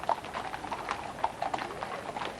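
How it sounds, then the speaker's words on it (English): Horses' hooves clip-clop at a steady walk in Princess Diana's 1997 funeral procession, a sparse, moderately distant rhythm of light knocks over a hushed crowd with no band playing. "This is quite extraordinary, just the sound of horses' hooves."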